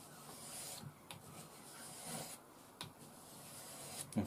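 A blade sharpened on abrasive paper with a vise nearby, quiet rasping strokes that come back again and again, each a soft scraping rub.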